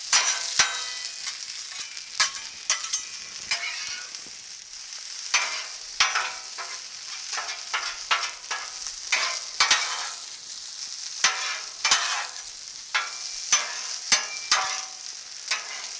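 Fresh vegetables for a brisket stir fry sizzle on a Blackstone griddle, a steady close frying hiss broken by frequent sharp scrapes and clacks of a spatula tossing the food, with no talking.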